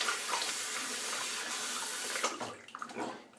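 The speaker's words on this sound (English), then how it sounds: "I'll rinse my hands" Hands are rinsed under a running tap before a shave, a steady close stream of water that cuts off near the end, followed by a few light handling splashes.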